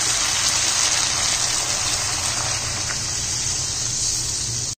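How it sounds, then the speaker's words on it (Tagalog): Sprite soda gushes steadily into a pot of pork ribs being cooked with tomato sauce, a loud continuous pouring rush up close that cuts off abruptly at the end. "Ilagay na natin yung Sprite."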